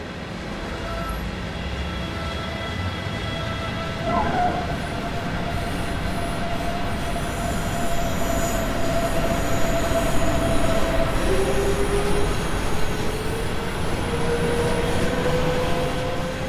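A simulated electric train in Train Sim World 3 on the Munich to Augsburg main line rumbles steadily along the tracks, with wheels squealing and rising and falling tones from the motors over a constant noisy roar.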